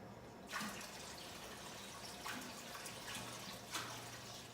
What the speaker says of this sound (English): now I'll be sending salt water back into my tank.